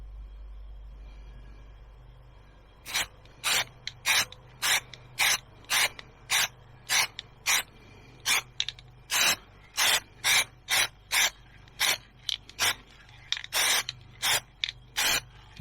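Short bursts of camo plastic dip aerosol paint sprayed onto a USB-powered bivvy fan, about two dozen evenly spaced hissing blasts, close and loud, starting after a quiet pause.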